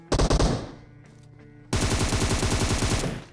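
Bursts of machine gun fire in a battle royale game: a short rapid volley, a brief lull with scattered clicks, then a longer sustained burst of rapid, loud automatic shots.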